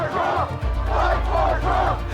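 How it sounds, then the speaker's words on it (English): A crowd gathered at the barricades in front of the East Plaza of the Capitol roars loudly and steadily, with rhythmic shouting and chanting rising over the din. "a crowd is already assembled at the barricades in front of the East Plaza of the Capitol"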